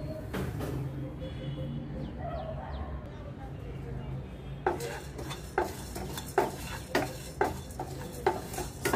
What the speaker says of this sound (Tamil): மற்றது எல்லாத்தையுமே நம்ம இப்போ சேர்த்து வறுத்துக்கலாம்.